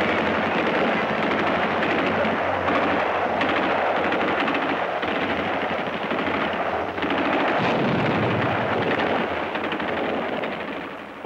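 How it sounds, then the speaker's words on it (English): Japanese artillery and mortar fire pound a WWII Pacific island in a continuous roar of rapid blasts and gunfire, loud and unbroken with no talking. "Japanese artillery and mortars are zeroed in on every foot of the island."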